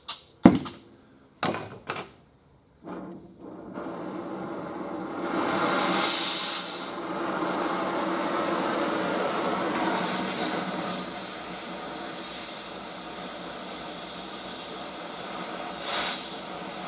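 A torch heats a metal gate pin during winter gate welding: a few sharp clanks come first, then a steady, close roaring hiss of flame runs on for over ten seconds with slight swells.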